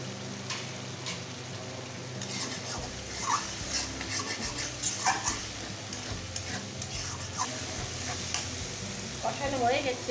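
Spice masala with whisked yogurt sautéing and being stirred for a Bengali shol (snakehead) fish curry, a steady sizzle with scraping spoon strokes throughout, close and moderately loud, no talking.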